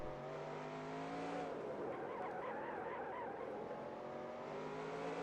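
Race car tires squeal in NASCAR Racing 2003, a sustained skidding whine over a steady engine drone that rises and wavers, fairly faint and heard alone without talking.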